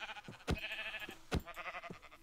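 Repeated wavering bleats from a black sheep in Minecraft, a quick run of cries broken by a couple of sharp thuds, close and clear.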